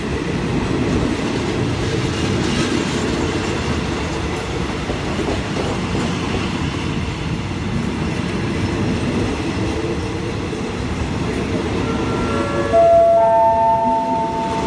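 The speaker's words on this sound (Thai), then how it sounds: "กำลังเข้าจอดรับส่งผู้โดยสารที่สถานีรถไฟบ้านโป่ง" Rapid Train 171 from Bangkok rumbles steadily on the rails, with a horn-like tone rising near the end as it pulls into Ban Pong station.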